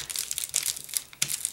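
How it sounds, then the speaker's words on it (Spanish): A juice pouch is folded by hand during a craft, making crisp, crackly crinkling of foil-lined plastic in several close bursts across the moment. "allí voy a doblar mi juguito"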